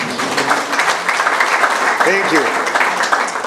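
Applause from an audience at a research and innovation meeting fills the room as a steady patter of clapping, with a voice speaking briefly over it midway.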